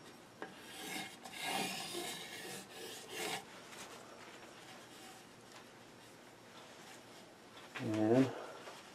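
A hand scraper rasps across the bead of a wooden platter on a lathe, giving a few scratchy strokes early on and a brief louder scrape near the end, with quiet gaps in between.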